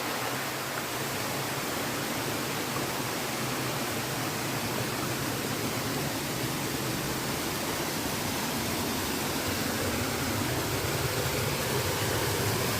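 Rushing water from a waterfall fills the air with a constant, broad roar, near and loud, unbroken for the whole stretch with no voices.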